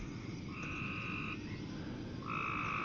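Frogs croak outside at night from beneath a porch: a steady low chorus underlies two long, loud trilling bursts, the first mid-clip and the second swelling near the end.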